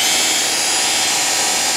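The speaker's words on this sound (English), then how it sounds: "Now this drill here does around 1500 to 1800 RPM." Steady, loud whirring drone of a power drill spinning a foam polishing pad at about 1500 to 1800 RPM against an aluminum wheel, continuous and unbroken with no talk over it.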